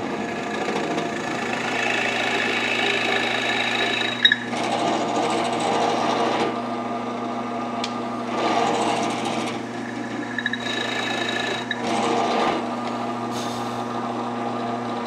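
A drill bores a 3/8 inch deep hole centred in a pilot hole while building a DIY Moxon vise, a loud steady motor whine with the pitch and load shifting as the bit cuts in and eases off.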